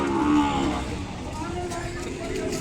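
A calf at the Kodada cattle market, where Ongole bulls are sold, lets out a low, drawn-out moo near the start, with other livestock and crowd murmur going on around it.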